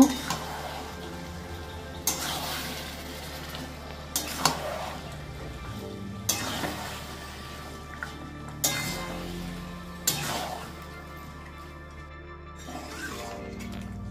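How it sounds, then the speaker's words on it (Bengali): Marinated chicken sautéing with spices in a pan for a Bengali doi chicken curry, a steady low sizzle broken by periodic stirring scrapes and clinks of the spoon against the pan. "এবার ম্যারিনেট করা মাংসগুলো বন্ধুরা আমি মশলার সঙ্গে কষিয়ে নেব"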